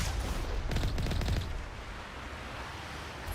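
Gunfire in a video game during a sniper engagement, a dense crackle of distant shots and rattling bursts over a steady background wash, fairly faint, with no talking.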